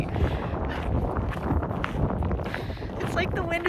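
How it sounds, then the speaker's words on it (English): Wind gusts buffet the microphone on a desert hike near Lake Mead, a steady loud rushing rumble, with people talking over it. "It's like the wind is following us for every hike."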